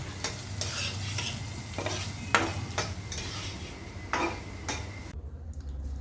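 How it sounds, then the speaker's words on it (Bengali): Leftover chicken reheating in a pan, a low steady sizzle with repeated spoon stirring and clinks against the metal, fading away at the very end. "এই চিকেনটা গরম করছি"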